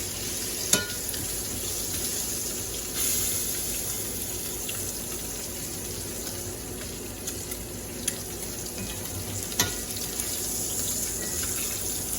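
Berkshire pork chops sizzle steadily in a pan, a continuous close frying hiss with a few sharp clicks and pops as the chops are shifted around.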